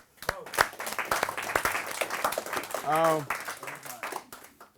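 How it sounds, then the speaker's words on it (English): A crowd at a seminar applauds a woman, with scattered, fairly quiet claps under ongoing talk and a brief vocal exclamation midway. "Give her a round of applause."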